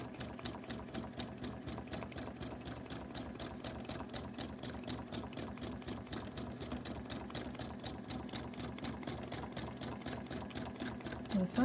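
A sewing machine doing bobbin work stitches in a fast, even rhythm of rapid needle clicks, steady and close but quiet, with faint speech in the background.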